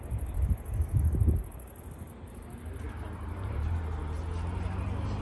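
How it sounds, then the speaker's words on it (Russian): Cars drive along a road beside an airport, a low steady traffic rumble with a louder close pass early on, then a continuous wash of tyre and engine noise under wind. "Машины ездят здесь."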